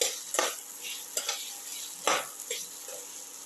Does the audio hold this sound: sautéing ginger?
yes